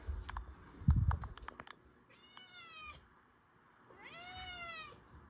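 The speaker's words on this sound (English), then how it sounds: "She's the half feral cat that cannot get along with anyone. And she apparently likes to talk during videos." A half feral cat meows twice indoors, two drawn-out, wavering calls close to the microphone, preceded by a few light clicks and a soft thump, with no talking.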